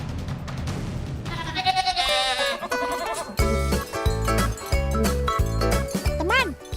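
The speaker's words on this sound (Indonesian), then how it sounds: "Jadi lebih baik si anakan domba ini tetap berada di kandang." A lamb bleats in its pen, its wavering cries rising over a busy, loud bed of music with tinkling sounds, repeated several times close by.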